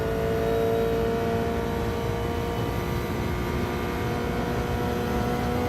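A car engine in Gran Turismo 7 at Willow Springs during a daily race, a loud, continuous drone with a steady pitch that holds for several seconds and has no voices over it.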